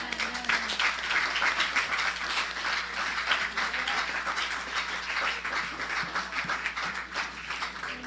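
A church congregation claps in dense, steady applause that carries on through the whole stretch, fairly close and even in loudness.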